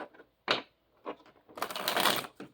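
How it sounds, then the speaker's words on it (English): Tarot cards being shuffled by hand, a few short riffling bursts followed by a longer, louder flurry of crisp card flicks up close, with no talking. "I don't like to waste a lot of your time shuffling, but I have to shuffle."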